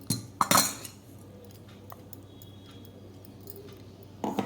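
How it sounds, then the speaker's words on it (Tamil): A spoon clinks against a bowl of maida flour as powdered sugar is added, with a couple of sharp metallic taps at the start and again at the end and quiet handling in between. "இப்போ இது கூட வந்து நம்ம சுகரை சேர்த்துக்கலாம்."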